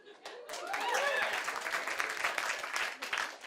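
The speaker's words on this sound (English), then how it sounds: "Y'all clapping with pride." Audience at a stand-up comedy show breaks into steady clapping and applause, a dense wash of many hands mixed with crowd noise and a few voices, sustained and fairly loud throughout.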